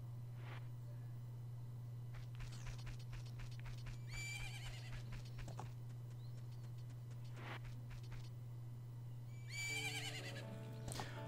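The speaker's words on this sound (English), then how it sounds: "Isn't that your horse?" In The Legend of Zelda: Majora's Mask, the horse Epona at Romani Ranch gives two short whinnies, one midway through and one near the end. Both sound over a steady low electronic hum and soft game ambience.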